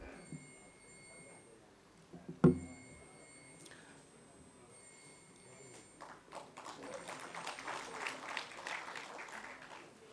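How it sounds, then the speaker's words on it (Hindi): A mushaira audience in Azamgarh breaks into applause after a sharp knock, the clapping building from scattered hands into a fuller, moderately distant round over a faint hum. "में ज़ोरदार तालियों के साथ खैर मकदम मोहतरम जनाब डॉक्टर उमैर सिद्दीक़"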